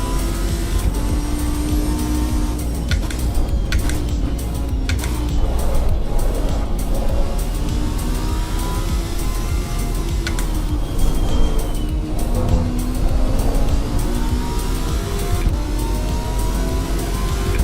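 Ferrari race car engine in the racing game Assetto Corsa EVO, a continuous loud drone that rises and falls as the car accelerates and shifts, with intermittent clicks over the top.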